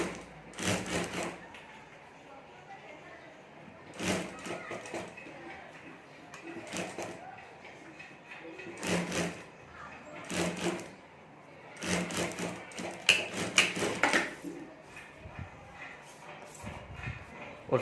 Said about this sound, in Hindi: ऊपर बॉर्डर रखकर ऊपर सिलाई कर देनी है